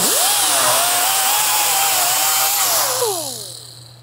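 An angle grinder takes a 1960s GMC/C10 truck cab flange down to bare metal, a loud close whine that holds steady with a gritty rasp, then winds down as the tool spins to a stop.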